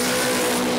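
Toyota Corolla KE10 powered by a 3RZ engine at a drag racing event at the Brisbane Jamboree, a loud, sustained high engine drone under hard acceleration, close and steady for under a second with no talking.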